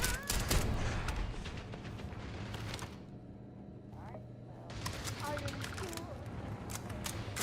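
Gunfire and turret fire in the space game Starfield, dense bursts of shots crowding the opening seconds, a short lull, then another run of firing, with a voice talking over the action.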